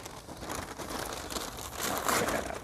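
A package of garden tools wrapped in paper is torn open, giving continuous close crinkling and rustling of paper that grows louder near the end.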